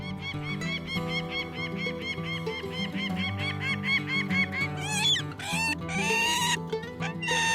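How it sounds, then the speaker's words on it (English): A falcon, one of the birds living in Russia, screams in a run of harsh, evenly spaced calls, then gives several longer wavering cries, all over a steady low background drone. "Listen to the falcon screaming."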